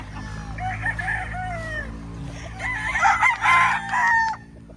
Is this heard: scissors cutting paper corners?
no